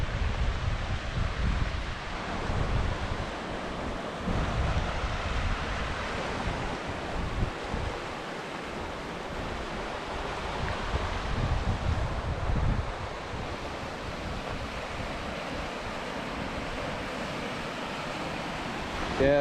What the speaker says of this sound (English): there must be a lot of water coming over that overflow